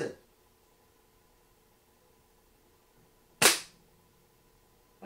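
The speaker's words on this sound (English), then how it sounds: "all you can hear is the pellet hitting the target over there" An Air Arms S510 XS TDR air rifle fires and its pellet hits a target, heard as one sharp, loud crack that decays quickly amid near silence, with faint similar snaps at the very start and end.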